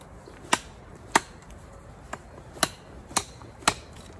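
A heavy handmade artisan knife, gripped in its first third with a wrist strap, chops in six sharp separate strikes spaced about half a second apart. Each strike is close and crisp, with quiet room tone between them.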